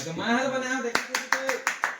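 A voice trails off, then several sharp claps ring out in a quick, even rhythm, close and fairly loud.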